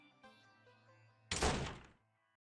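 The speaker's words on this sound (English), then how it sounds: "Bakeru deliberately shut the director's office door with a loud bang as she left." In a video game, an office door is slammed shut with a single loud bang that rings briefly and fades, following a quieter stretch of soft sounds.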